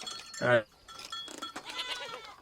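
A goat of an improved dairy breed on a Tanzanian restoration project gives one short, loud bleat near the start, followed by quieter background sounds and faint talk.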